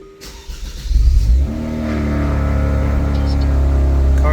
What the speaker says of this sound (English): Car started up just right.